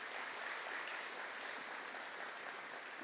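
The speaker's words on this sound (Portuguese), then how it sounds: "Uma salva de palmas para o anjo da guarda que nunca deixou de cuidar de você." Steady, fairly faint congregation applause in a church service, a continuous wash of many hands clapping without pause, somewhat distant.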